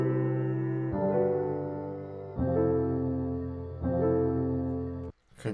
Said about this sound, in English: So I ended up using this piano